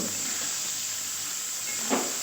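Pitul dumplings and pui leaves fry in oil for a curry: an even, bright sizzling hiss holds throughout, with one short soft stir or splash near the end.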